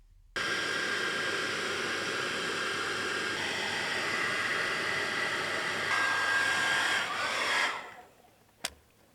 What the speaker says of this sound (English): we had to heat the pipe inch by inch with the hairdryer to bend it into shape